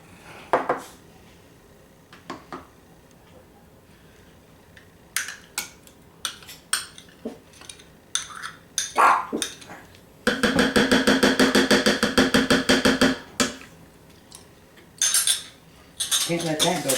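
Half a cup of sour cream being mixed in a bowl with a utensil, with scattered clinks and taps, then a dense, steady burst of rapid scraping and stirring against the bowl, fairly loud and close, with no talking.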